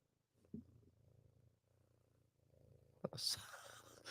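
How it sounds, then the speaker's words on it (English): A cat purring close by, a soft steady low rumble heard for about three seconds, then louder rustling and handling noise take over at the end. "Oh, Jenny, should we just hear some cat purring?"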